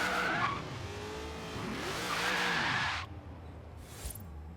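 An 800 HP Ford Falcon in Forza Horizon 3 revs hard through its gears with loud engine roar and tyre squeal, and the noise then drops away to a quieter idle near the end.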